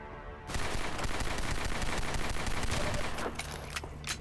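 Rapid gunfire from a firefight in the video game Half-Life 2 (The Closure remod), a dense sustained burst of shots lasting several seconds with loud sharp cracks, starting abruptly and tapering off.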